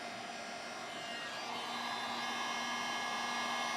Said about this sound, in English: and then I got my heat gun on high over here